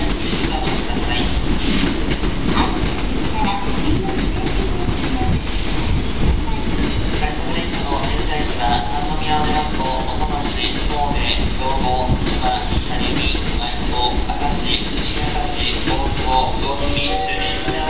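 A JR West 223 series 6000 rapid train pulls into a station, its steady rumble and rhythmic wheel clatter running loud and close throughout, with faint station announcement voices mixed in.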